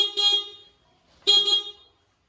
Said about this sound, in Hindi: सबसे पहले मैं बजाता हूँ सिंगल वाला हॉर्न